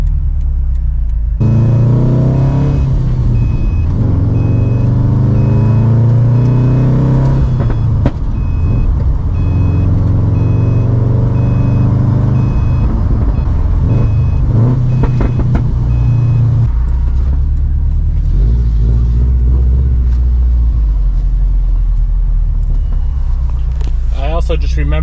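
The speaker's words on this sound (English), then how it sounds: "This exhaust sounds so good on this car." A car's exhaust drones low and loud while driving, with the engine note rising and falling through a rumble as a voice talks over it for much of the time.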